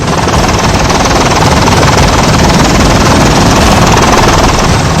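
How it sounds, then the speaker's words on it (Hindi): Rescue helicopter hovering and climbing over floodwaters during a basket rescue, its loud, steady broadband rotor and engine roar filling every moment without a break. "हेलीकॉप्टर एक बार फिर से आसमान में ऊंचाई की ओर उड़ने लगता है"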